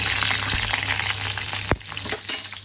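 Mustard seeds, dried chilli and asafoetida fry in hot oil for tomato rasam, giving a continuous close sizzle with scattered pops and a sharp clink of a utensil partway through.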